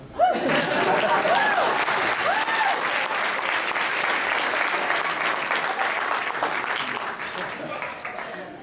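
Guests at a wedding reception clap in sustained, full applause with some cheering and voices mixed in, holding steady for several seconds before thinning slightly toward the end.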